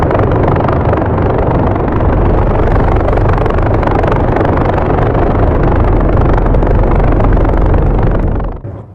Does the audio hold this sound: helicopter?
yes